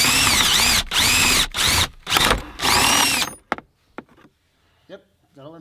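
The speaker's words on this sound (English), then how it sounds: "I drilled through the bottom of your frame stuff" Loud bursts of a power drill with a wood bit boring through the bottom of a 12V VR6 car's frame during a shifter kit install, about four long revving runs, then a few knocks and clicks and quiet.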